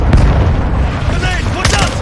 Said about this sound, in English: Hostile cruise missile.